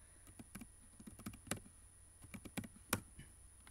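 Typing on a computer keyboard while entering a Mocha test command: irregular bursts of sharp, close key clicks, some louder strikes, over a faint steady electronic whine.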